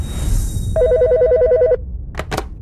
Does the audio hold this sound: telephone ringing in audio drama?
yes